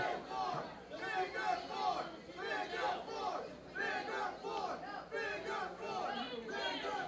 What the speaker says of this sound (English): The crowd is calling for something here.